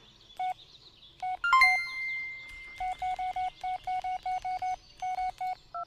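Phone keypad tones in the video game Blair Witch beep in short bursts: a few separate presses, a brief chime, then a quick run of evenly spaced dialing beeps.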